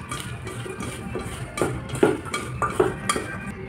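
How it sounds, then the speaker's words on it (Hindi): Boiled potatoes mixed by hand with mustard oil and spices in a bowl, with soft irregular squelches and light knocks against the bowl, close up and quiet, with no voices. "और इन सारी चीज़ों को हाथ से हम मिला देते हैं।"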